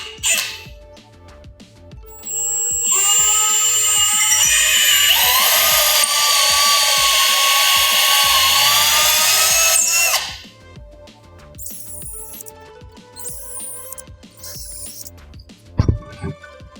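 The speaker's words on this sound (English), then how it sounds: "So we're doing 4 pilot holes." A power drill bores pilot holes into a wall stud for mounting a TV: a loud, steady high-pitched whine runs for about eight seconds, then stops, followed by brief quieter squeaks and clicks.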